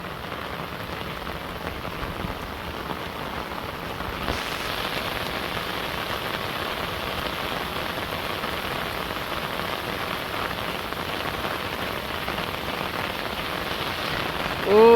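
Steady rain falls in a Bangladeshi village, a dense, even hiss of drops on surfaces that grows slightly heavier after the first few seconds and carries on without any voices.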